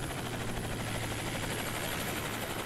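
A helicopter's steady rotor and engine roar runs loud and unbroken throughout, a dense constant drone with a low hum, with no voices over it.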